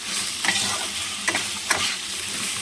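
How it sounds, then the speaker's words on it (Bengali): Pointed gourd and potatoes being sautéed with spices in a pan, a steady close sizzle broken by a few sharp scraping stirs of a spatula, with no voices. "পটল আর আলুটাকে ভালো মতো কষিয়ে নেব এবার মশলার সঙ্গে।"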